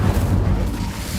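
Incendio fire spell cast in the Hogwarts Legacy video game, a dense low rumbling whoosh of flame that stays loud and steady through the short moment, with no talk over it.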